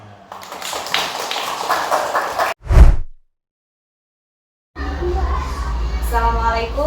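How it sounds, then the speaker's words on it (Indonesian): A classroom group clapping hands in a school lesson, a dense patter of applause that stops abruptly, followed by a single thump, a brief silence and then voices talking. "Tepuk tangan."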